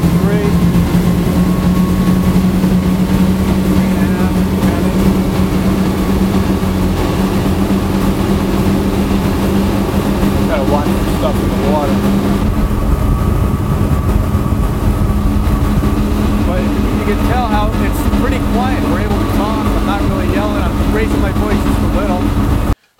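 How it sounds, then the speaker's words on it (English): A Fountain 38 CC Tournament Edition powerboat running on plane with twin engines droning steadily at speed, a loud continuous roar with shifting tones and water rush, while someone talks over it. "Show you how quickly she gets up on plane."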